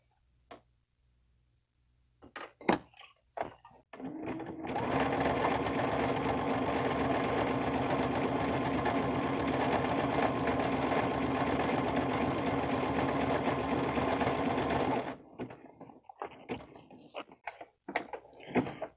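A sewing machine stitches a wide bar tack at the end of a buttonhole, running in one steady, fast, continuous whir for about ten seconds, framed by scattered clicks and handling noises before and after.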